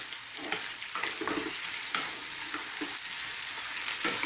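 Potatoes and sliced onions fry in a pan, a dense continuous sizzle and hiss with repeated scraping and tossing sounds as they are stirred, close and steady throughout.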